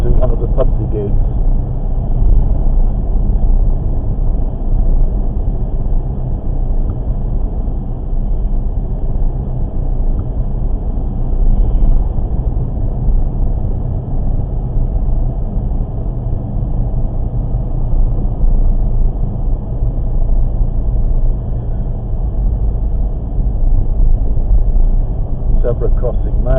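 A car drives out through Stanningley toward a Pudsey gate, its engine and road rumble a steady, close drone with no break throughout.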